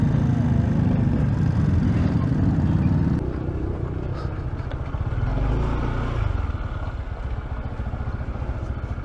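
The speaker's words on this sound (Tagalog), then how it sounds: "Mga sasakyan talaga dito." Busy road traffic with cars and motorcycles, engines idling and revving nearby in a continuous loud rumble that dips briefly midway before swelling again.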